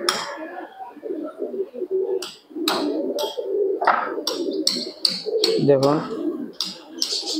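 Pigeons coo at a farm of about a hundred birds, with soft repeated coos and chirps near the listener under steady talk from a man.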